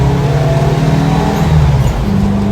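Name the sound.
1970 VW bus with 200HP turbo engine driving at 60 mph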